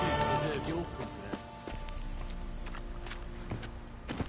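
Roach the horse gallops in The Witcher 3 with rhythmic clip-clop hoofbeats under a steady game ambience, moderately loud, with a few sharper thuds along the way.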